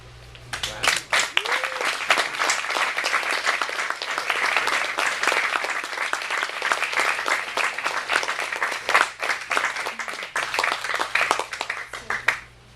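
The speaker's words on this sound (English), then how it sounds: "One more round of applause." Sustained applause from an audience at a book reading fills the whole stretch, steady and dense, with many hands clapping at once.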